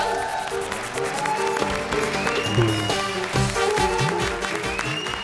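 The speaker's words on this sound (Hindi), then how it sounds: "जोरदार तालियां" Studio audience applause on an Indian television comedy show, a steady wash of clapping that fills the whole clip at moderate level, with music and voices mixed in underneath.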